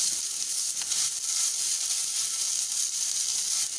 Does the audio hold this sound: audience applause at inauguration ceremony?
no